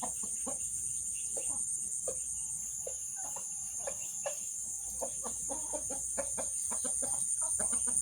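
Chickens cluck in short, scattered bursts over a steady high insect drone, with no voices present.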